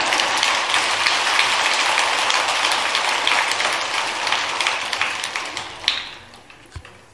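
An audience claps during a Buddhist dharma talk at the Hwaeom assembly at Tongdosa temple: thick, fast patter of applause that thins out toward the end into a few scattered last claps.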